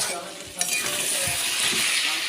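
Cabbage and rohu fish head stir-fried in a pan, a steady close sizzle with scraping and stirring running throughout.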